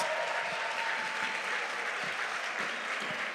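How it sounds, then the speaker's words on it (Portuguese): Steady, full applause from a church congregation during a Portuguese-language service, a continuous wash of many hands clapping at even loudness throughout, with no talk over it. "Salva de palmas a todas as mulheres."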